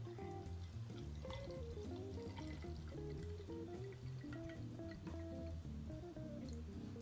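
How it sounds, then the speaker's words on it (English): Water is poured into a cup of lemon juice for homemade lemonade, a soft continuous trickling and sloshing that runs steadily throughout, fairly faint and close. "I'm going to fill most of the rest of the cup with water."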